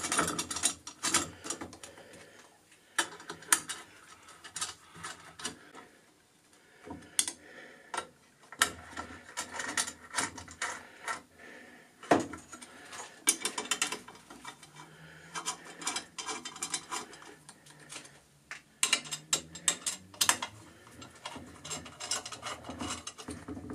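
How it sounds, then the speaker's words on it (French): A ball screw nut being threaded onto a CNC machine's screw shaft, giving soft, irregular ticking and mechanical clicks with quiet pauses, close by and fairly faint. "Et là, on va pouvoir visser."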